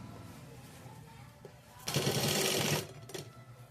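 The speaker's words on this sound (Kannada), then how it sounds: "ಈ ಸೈಡ್ ಕೂಡ ಅದೇ ಥರ ಸ್ಟಿಚ್ ಮಾಡಿಬಿಡೋದು" A sewing machine stitching a blouse runs in a loud, fast burst of about a second, then a shorter run follows, set between quiet stretches of faint handling noise.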